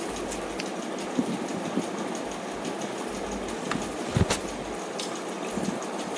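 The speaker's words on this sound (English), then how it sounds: "Now here I have made a water fountain out of thermocol" A small DC water pump drives a homemade thermocol water fountain, giving a steady low trickle and gurgle of flowing water with a faint motor hum and a few soft splashes.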